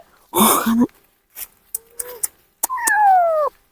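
A young kitten gives several meows, one long drawn-out cry at the end, between short breathy noises, close and fairly loud.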